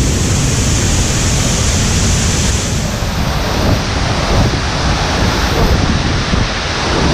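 Waterfall at São Romão in Chapada das Mesas, a steady loud broadband roar of falling water, constant and close with no pauses or voices.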